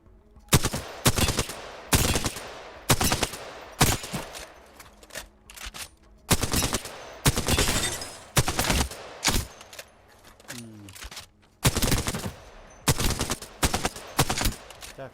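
Full-auto submachine gun fire in the video game Apex Legends, heard as repeated sharp bursts of rapid shots separated by brief pauses, loud and close with no talk.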